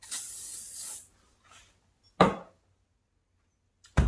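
Aerosol protectant is sprayed onto steel parts from a Scott Bonnar 45 reel mower teardown to guard against surface corrosion: a loud, close hiss of about a second, then a faint short puff and two sharp bursts.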